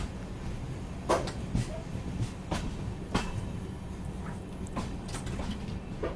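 The Konkan Kanya Express pulling into Karmali station, heard as a steady low rumble from inside the train with scattered clacks and knocks from the railcars.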